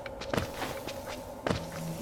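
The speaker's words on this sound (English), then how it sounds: "We can hear footsteps" Soft footsteps in the game Hollow Knight, two distinct thuds about a second apart over a quiet, humming background.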